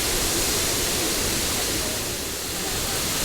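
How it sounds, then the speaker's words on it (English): A large, grand waterfall at a roadside stop roars steadily, a dense, full-bodied rush of falling water close by with no pauses, filling the whole scene. "this first stop, which is the waterfall, and it's super grand"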